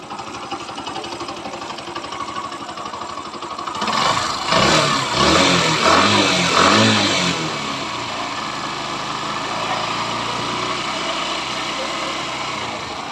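A freshly rebuilt 4-valve motorcycle engine, previously seized, runs close by, revving louder for a few seconds before settling back into a steady idle.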